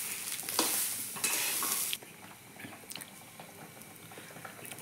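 Hurda, tender jowar, is heated and stirred in a pan, making a dry rustling sizzle with scraping strokes that is louder at first and then quieter with scattered light clicks, close by.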